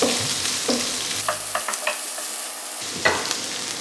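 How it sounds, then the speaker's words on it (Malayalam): Onions being sautéed in a pan for a Kerala-style mushroom moli: a soft steady sizzle broken by several scraping stirs of a spoon, close and alone, with a short quiet gap near the middle. "നന്നായിട്ട് ബ്രൗൺ കളർ ആവണ വരെ നമുക്ക് വഴറ്റി കൊടുക്കാം"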